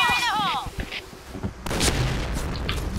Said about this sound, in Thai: เปิดฉากยิงมาแล้วเปิดฉากยิงกันแล้ว